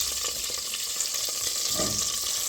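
Sausage and pork sizzle and fry in hot oil in a pot, a steady close crackling hiss with a brief louder burst of spattering near the end, no voices.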